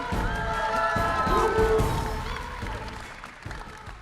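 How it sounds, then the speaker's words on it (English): A panel audience at Star Wars Celebration 2025 applauds and cheers for the Star Wars Zero Company creators, a loud crowd swell that peaks and then gradually fades. "Give them all a big round of applause, everyone."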